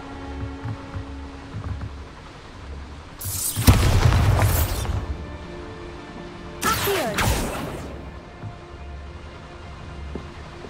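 Two loud Bombarda spell explosions go off in the Hogwarts Legacy video game, each a sudden booming burst with crackling debris that trails off. They are a few seconds apart over a quiet ambient hum.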